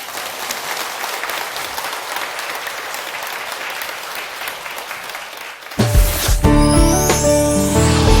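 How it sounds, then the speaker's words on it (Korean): Audience at a Korean lecture-style teaching session applauds steadily for nearly six seconds, a dense continuous clapping wash, before it cuts abruptly to music-like tonal sound. "박수 한번 치세요."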